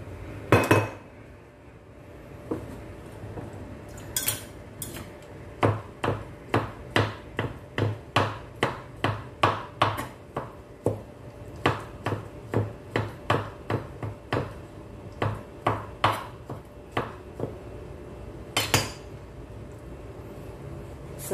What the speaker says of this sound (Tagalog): At mag-chop tayo ng kaunting olives dito lang para may